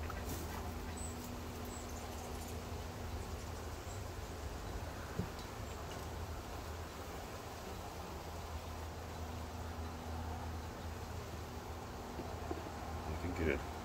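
Honeybees on a comb frame lifted from an opened hive in an apiary, a steady close buzzing drone that runs throughout with a low hum beneath.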